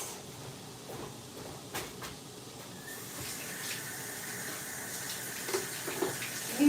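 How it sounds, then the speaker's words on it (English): Tap water runs into a kitchen sink while hands are rinsed of bacon grease, a faint soft splashing that grows slightly louder and busier toward the end. "Let me wash my hands from bacon fat."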